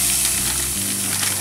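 Pork sizzles steadily in a hot pan as it is stirred, a continuous crackling hiss with a low rumble, close and fairly loud, with no talking.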